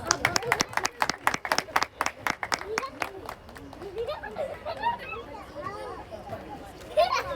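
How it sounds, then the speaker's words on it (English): Audience applause at a school annual function for a child about to play keyboard: a burst of sharp rhythmic claps for about three seconds, then fading into crowd chatter and talk. "Let's welcome him with a huge round of applause."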